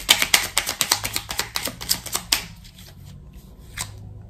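Oracle cards for a card reading are shuffled close up in a quick, even run of crisp riffling flicks for a couple of seconds, followed by a few faint handling taps.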